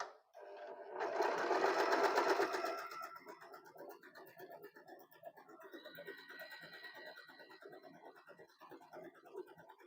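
Usha Allure DLX electric sewing machine stitching a decorative zigzag pattern, a loud close whir for about two seconds, then a steady softer run of rapid needle clatter continuing to the end.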